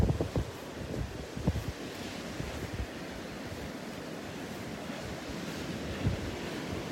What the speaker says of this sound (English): It's not bad, it's just that wind that gets you.